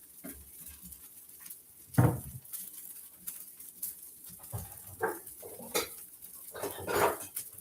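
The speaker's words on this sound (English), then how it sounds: "I'll just put a little bit more flour in there. So that should be it. And I'm going to stir it up." A spoon stirs a vegan flour mixture in a bowl, giving intermittent scraping clinks and knocks against the sides, sparse and close, with quiet gaps between strokes.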